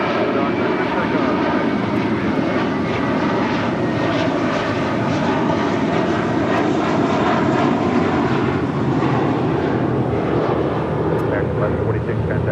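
Airliner engines roar loud and steady at Los Angeles International Airport, a close, continuous rumble filling the whole stretch, with radio chatter and voices faintly under it.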